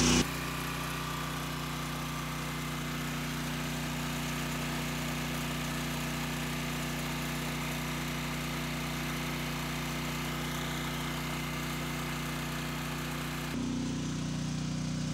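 A Troy-Bilt generator engine drones steadily nearby, a constant mid-pitched hum with an even tone that changes slightly right at the end.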